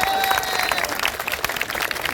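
A crowd applauds during a motivational speech in Prayagraj, steady dense clapping filling the whole moment without a break.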